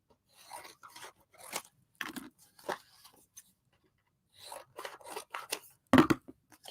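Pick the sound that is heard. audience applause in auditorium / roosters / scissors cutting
scissors cutting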